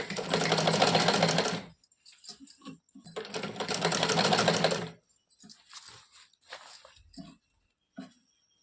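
A sewing machine stitches fabric for an Afghani salwar in two loud, even runs of rapid whirring, each about two seconds long, separated by quieter clicks and handling of the cloth.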